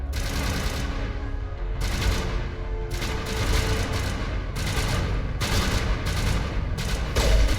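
Rapid gunfire from the Mass Effect video game rattles almost continuously in dense, overlapping bursts, loud and steady with no talk over it.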